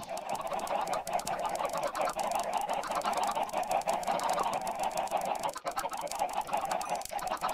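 Minecraft chickens on an in-game farm cluck and squawk continuously in a crowded, noisy chorus, close and loud with no talk over them.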